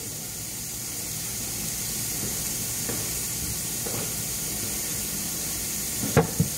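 A little butter melts in a hot pan while cooking shrimp and grits, giving a steady, close, even sizzling hiss with a couple of small pops near the end, and no voices.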